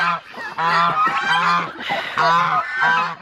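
Loud, repeated nasal honking calls from several ducks close by in rural countryside, overlapping in quick succession.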